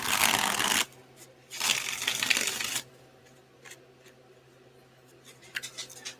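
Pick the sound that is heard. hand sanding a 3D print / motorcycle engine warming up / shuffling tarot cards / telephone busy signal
shuffling tarot cards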